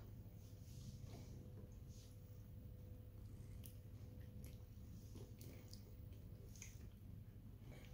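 A cat eats meat pâté from a supermarket, producing faint wet squishing and lapping with small irregular clicks of chewing over a steady low hum, close but quiet, with no talking.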